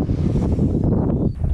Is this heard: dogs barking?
no